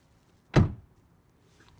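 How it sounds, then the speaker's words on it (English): A single solid thunk of a 2024 BYD Seal AWD car door shutting, close and firm, followed by near silence. "let's start with the sound of the door."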